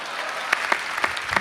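Audience clapping at a Hindi comedy poetry show, a steady burst of applause with a few sharper claps standing out, close and fairly loud.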